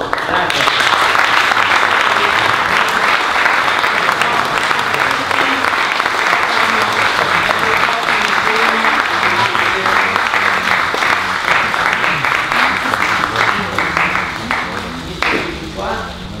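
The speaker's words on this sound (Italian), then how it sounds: "l'applauso è dopo per te e per loro" Loud, sustained applause from a press-conference audience, dense continuous clapping that holds steady before thinning out near the end, with voices mixed in underneath.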